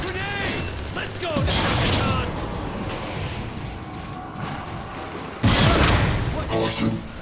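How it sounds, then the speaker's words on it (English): Heavy booming blast in Transformers: War for Cybertron, a loud grenade explosion bursting out amid clanking metallic mechanisms and battle noise, with robotic voices shouting through the scene. "Watch out! Grenade!"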